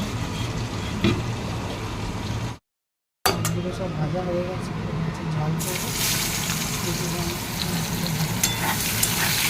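Spices frying and being stirred in a pan for fish curry, a steady broad sizzle with scraping stirs, a brief silent gap partway, then a brighter hissing surge after water goes in near the end; a voice talks over it.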